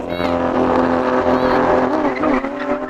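Two Lamborghini Aventadors, an SVJ and an Ultimae, both V12, in a drag race: loud sustained engine roar with tire squeal and skidding noise throughout, with a voice talking over it.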